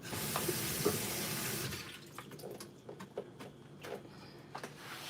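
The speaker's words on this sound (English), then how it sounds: "Go ahead and give it a rinse." Raspberries being rinsed under a running kitchen tap, a steady close rush of water for under two seconds that then cuts off, leaving quiet handling clicks and taps.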